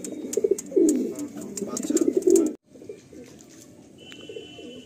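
Kalasabuj pigeons in a Kolkata loft cooing close by in repeated rolling phrases, loud at first then softer after a brief break, with a faint high tone near the end.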